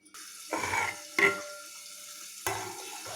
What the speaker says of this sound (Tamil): பார்த்திங்கன்னா நல்லா கொதிச்சிட்ருக்கு.